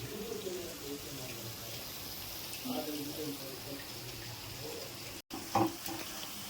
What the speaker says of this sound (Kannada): ಚೆನ್ನಾಗಿ ಫ್ರೈ ಆಗುತ್ತೆ